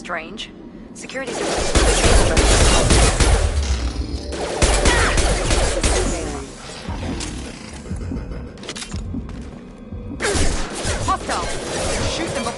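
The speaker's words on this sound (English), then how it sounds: "Shoot them before they take out the shield." Bursts of gunfire from Mass Effect 2 combat crackle and clatter in dense volleys, with shouted game dialogue over them and a few short pauses between exchanges.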